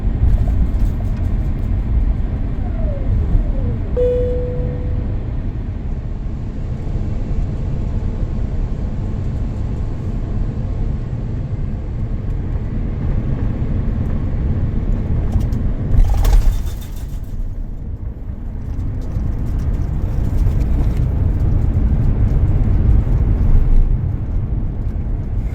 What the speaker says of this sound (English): And here we've landed at Helsinki airport.